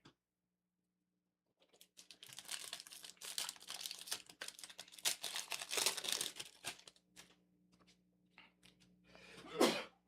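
A single sneeze bursts out near the end, loud and close, after several seconds of crinkling and rustling from trading card packs being handled.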